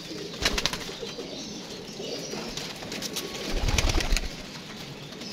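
Pigeons coo softly and flap their wings, with quick bursts of wingbeats and fluttering rising over a quiet background, one louder flurry near the end.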